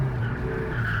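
Nissan S-chassis car drifting on a track at a track day, sustained tire squeal over a steady engine drone, loud and continuous through the short moment.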